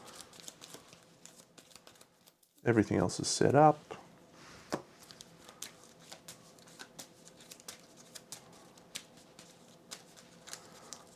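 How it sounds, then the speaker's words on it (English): A deck of Kingdom Death: Monster game cards being shuffled, a brief loud riffling burst followed by scattered soft card taps, with a voice speaking. "Oh, I need to shuffle these because I haven't shuffled them."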